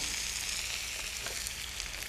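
Garlic and tomatoes sauté in a hot pan, making a continuous close crackling sizzle with no speech over it.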